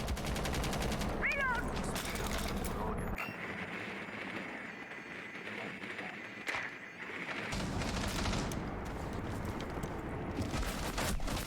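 Gunfire during a competitive college esports playoff match in a shooter video game, with rapid bursts of shots and mechanical clatter layered over dense game noise and a commentator's voice.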